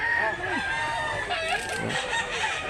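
A two-year-old bullstag gamecock crows loudly and close by, one full cock-a-doodle-doo with rising and falling calls, at a rooster market in Mantalungon, Cebu.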